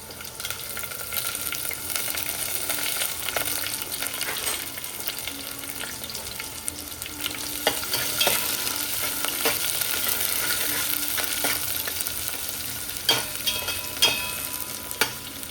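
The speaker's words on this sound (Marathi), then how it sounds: "इकडे माझे मशरूम पण फ्राय होते" Mushrooms fry in a pan with a steady sizzle and occasional stirring scrapes, close and fairly loud, while paneer has already been fried nearby in the kitchen.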